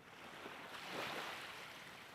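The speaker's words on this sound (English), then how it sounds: "I could hear the waves" Ocean waves from the video game Cupid Parasite wash in as a soft, steady surf hiss that swells gently midway, faint and alone with no voices.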